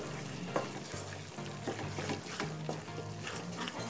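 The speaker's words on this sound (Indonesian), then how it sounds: "Aduk hingga tercampur rata dan menyatu dengan bumbu." A spoon scrapes and stirs through a thick blended spice paste for Coto Makassar in a frying pan while oil sizzles steadily underneath, close and moderately loud.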